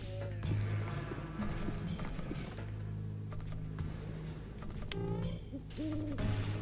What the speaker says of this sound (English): I just heard an owl in the game.